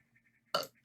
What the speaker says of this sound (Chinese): 给我气的打嗝